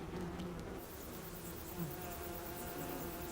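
Small honeybee colony of about 10,000 bees inside a spacious hollow nest of hanging combs, a dense continuous close buzzing hum that stays steady throughout with no talking.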